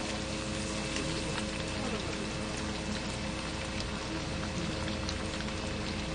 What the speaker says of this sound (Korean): 이렇게 초벌을 튀겨서 저기 이제 굴소스에 볶는 거예요